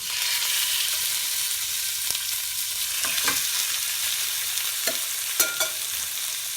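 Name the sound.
pork chops frying and sizzling in hot ghee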